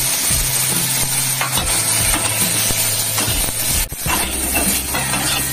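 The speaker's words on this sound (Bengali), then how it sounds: "গোটা জিরে দিয়ে ওই আলুগুলোকে ভাজতে দিই।" Boiled potatoes frying with whole cumin in hot oil, a loud continuous sizzle with repeated scraping and stirring strokes close up and a brief dip near the end, with no talking.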